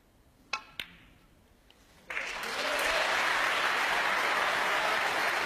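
Snooker match crowd bursts into sustained applause after a couple of sharp clicks, building to a loud, steady wash of clapping that fills the room.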